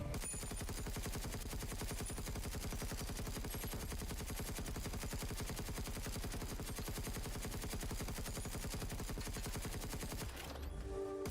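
Sustained rapid weapons fire in Space Engineers 2, a long, dense stream of evenly spaced shots at a 50-meter range target, continuous for about ten seconds before cutting off abruptly.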